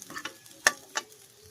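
Garlic and onion frying in a pan, a faint sizzle punctuated by a few quick stirring clicks and one sharp utensil tap, close and brief.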